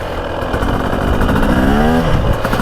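2024 Beta 300 Race Edition two-stroke motorcycle engine revving, a loud buzzing rasp that climbs quickly in pitch during a short rev, heard close and continuous.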